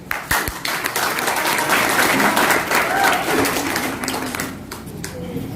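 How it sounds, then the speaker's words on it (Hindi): A seminar audience in Dehri on Sone, Bihar, breaks into clapping, dense close hand claps building quickly to a loud sustained roar, then thinning out gradually toward the end. "कुछ लोगों ने तो ताली बजाई, कुछ ने ताली नहीं बजाई"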